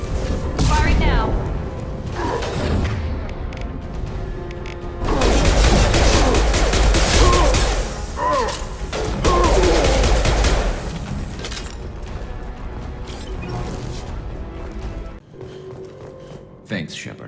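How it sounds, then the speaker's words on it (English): Gunfire from Mass Effect 2 builds into dense, loud volleys of shots and heavy impacts, swelling and easing over several seconds with voices heard amid the combat. "Firing now."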